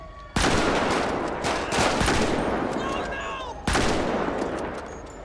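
Rifle gunfire in GTA 5 with the LSPDFR police mod on PC, heard as two loud, sharp shots followed by a sustained roar of noisy battle and echoing reports.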